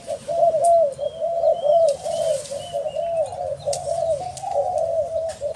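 Doves coo repeatedly in a steady, rolling rhythm, the soft throaty calls close and continuous, with faint chirps in the background.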